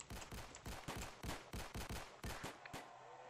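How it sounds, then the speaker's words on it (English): Rapid volleys of gunshots crack through a Roblox sheriff's office riot roleplay, about a dozen sharp loud bursts in quick irregular succession with no talking. "who is shooting?"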